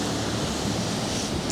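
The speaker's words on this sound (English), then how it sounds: "waves. You probably can hear it." Ocean waves break and wash onto the shore of a small cove in Hawaii, a steady, loud, close roar of surf with no voices.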